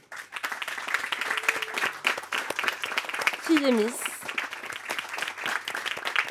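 Audience at a live French talk show applauds its arriving guests with sustained, fairly distant clapping while a voice speaks over it.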